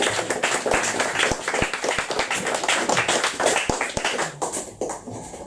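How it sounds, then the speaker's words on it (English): A crowd claps for poet Ted Smith-Orr after his reading, a full, continuous wash of applause with sharp individual claps poking through, starting to thin out near the end. "More applause, please, for Ted Smith-Orr."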